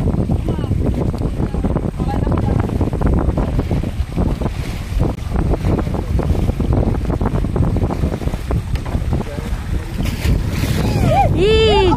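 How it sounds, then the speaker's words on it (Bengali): Rough storm water on the Garhal river churning and slapping against the bank under gusty wind buffeting the microphone, with people talking over it; a sharp squeal near the end. "কি জোরে জোরে মানে কুলে এসে জল বাড়ি খাচ্ছে"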